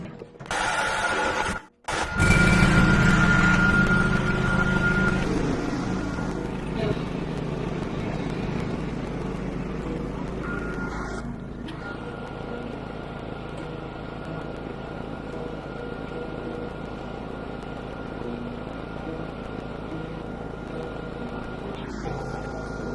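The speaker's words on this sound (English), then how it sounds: "I think it's time to go crank the John Deere" A John Deere tractor engine turns over and catches, then settles into a steady, loud mechanical running drone that continues throughout.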